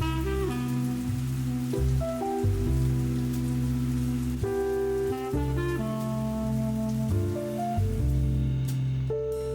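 Steady rain pattering on surfaces at an eco-resort in Coorg, India, a continuous close hiss of drops under soft tonal music, with no voices.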